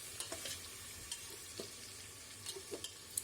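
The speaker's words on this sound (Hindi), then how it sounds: "पेस्ट डाल करके इसकी थोड़ी सी भुनाई करेंगे" Spice paste frying in a pot for beef biryani gives a quiet, steady sizzle. Soft scrapes and taps from stirring come at irregular intervals, and no one speaks.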